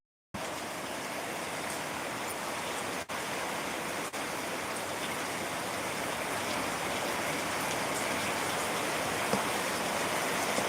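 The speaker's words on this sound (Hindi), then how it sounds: "बारिश हो रही है हमारे यहाँ आज।" Steady rain pours down in a continuous, even hiss that stays fairly close, broken only by a couple of brief dropouts, with no voices.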